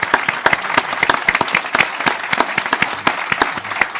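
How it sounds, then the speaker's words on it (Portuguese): Lively audience applause for speakers at an energy storage forum in Portugal, crisp close claps in a busy continuous patter, loud and sustained with no talking. "Uma salva de palmas aos nossos oradores."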